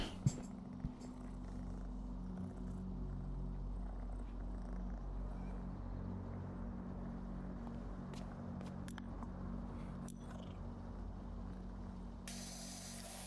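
Steady, continuous low purring of a cat, close by, with a few faint clicks and rustles.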